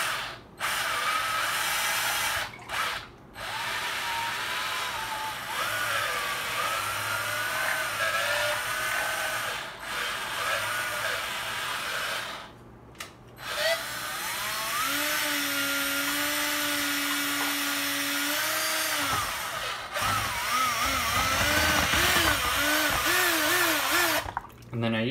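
A drill-driven paint stirrer whirs through mead must, a steady mechanical buzz with brief pauses and rising and falling pitch, loud and close throughout.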